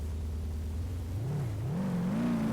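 A game vehicle engine in Garry's Mod ACF idles low, then revs up as it accelerates, its pitch climbing steadily in a continuous, close, loud drone.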